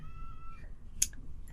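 A cat gives a single short meow, close and faint, after a brief high tone fades.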